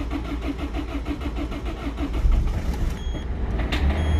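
A Peugeot 206 with a DV4 diesel engine cranks with a rhythmic starter chug, then catches and settles into a rougher, louder running idle, heard nearby outdoors.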